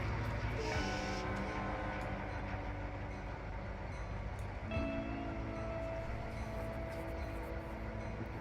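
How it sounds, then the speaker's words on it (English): A model railroad train runs during a layout operating session, giving a steady, continuous rumble and rolling hum with a brief tonal squeal partway through, close by and without talk. "Wow, it's trains."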